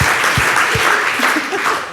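Steady, dense applause from a live audience at a panel event for an HBO Max comedy series, filling the full two seconds at an even, loud level with no break.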